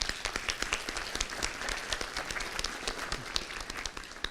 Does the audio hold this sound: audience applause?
yes